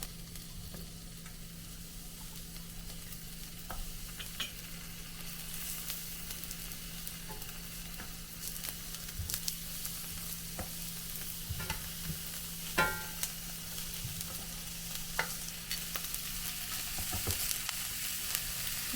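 Onions and garlic cloves frying and charring in a small amount of oil in a pan, a steady close sizzle running throughout with scattered pops and crackles and occasional utensil clicks.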